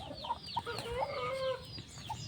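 A guinea fowl gives a string of short rising and falling calls and clucks, close by and moderately loud over a quiet background.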